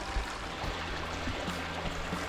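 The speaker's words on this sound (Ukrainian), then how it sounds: "дорога проходить кілька разів через таку гірську річку." A mountain river stream flowing across a road, a steady close rushing and gurgling of water with a low rumble, continuous and moderately loud with no talk.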